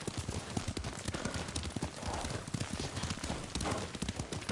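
Steady horse hooves clip-clop at a riding pace in the samurai video game Ghost of Tsushima. The hooves are close and continuous, layered over dense ambient game sound.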